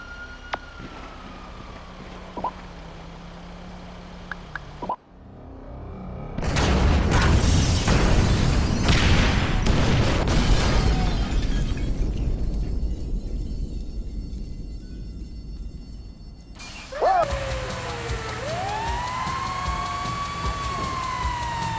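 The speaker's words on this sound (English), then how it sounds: "trigger the fire bombs, Frank." Fire bombs set off in the GTA V video game, a Bureau raid mission, give a sudden broad burst that roars and crackles loudly for about ten seconds, then tails off as a siren-like wail rises near the end.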